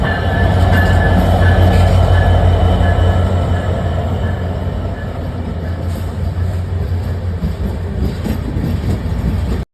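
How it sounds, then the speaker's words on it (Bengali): The Benapole Express intercity train arrives at Faridpur railway station, a loud, close, continuous rumble of rolling wagons with a steady low drone and faint clatter, gradually easing, with no talk. "এদিকে ঢাকা থেকে ছেড়ে আসলো যশোরের বেনাপোল অভিমুখী আন্তনগর বেনাপোল এক্সপ্রেস"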